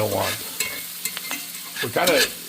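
A spoon stirs partly cooked onions into sausage in a pan for baked ziti, giving close scraping and clacking strokes at an irregular rhythm over a light sizzle, with a louder burst of stirring near the end.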